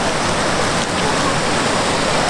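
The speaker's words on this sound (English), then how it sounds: "There's natural waterfalls everywhere you look. 20 minutes of pouring rain will do this." Heavy rainwater after a tropical storm on an island pouring down as natural waterfalls, a loud, steady broadband roar of rushing water filling the whole stretch with no break.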